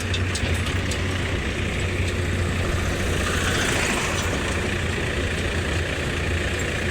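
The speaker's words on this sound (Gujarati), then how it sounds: "આમ સામે ટ્રેક્ટર હાલે" A tractor rolls along close by outdoors, its steady low engine rumble running continuously and fairly loud under broadband road and wind noise, with no talk.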